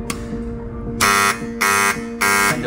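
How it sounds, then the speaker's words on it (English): An emergency-switch buzzer alarm on a project panel sounds in loud, harsh repeated bursts, three evenly spaced blasts with short gaps, close and alone. "the buzzer will trigger"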